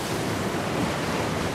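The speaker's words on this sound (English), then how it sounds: "Waves smash through cities." Crashing waves in a disaster film about sudden climate catastrophe, heard as a loud, unbroken roar of surf and rushing water with no pauses.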